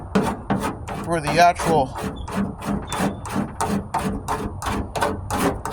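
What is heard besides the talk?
sanding prep on a 1998 Ford Ranger tailgate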